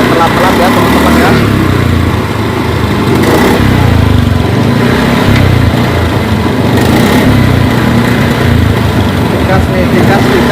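A Honda Beat scooter engine being serviced runs loud and close, its uneven idle stumbling and sputtering as the throttle is opened, with someone talking over it.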